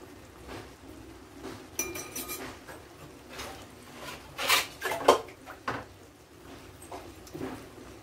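A metal lid goes onto a cooking pot of spiced beef, heard as a run of close clinks and clattering metal knocks, with a louder cluster of clanks midway, all fairly quiet and without speech.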